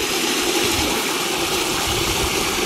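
Water gushes steadily from a garden hose fed by a hillside ram pump, a continuous, even hissing flow with no pauses and no voices.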